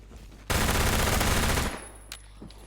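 A sustained burst of rapid automatic fire from an MP7 submachine gun in the online shooter Phantom Forces, loud and close for about a second, then fading into a few scattered quieter shots.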